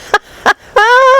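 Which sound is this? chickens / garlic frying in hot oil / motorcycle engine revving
chickens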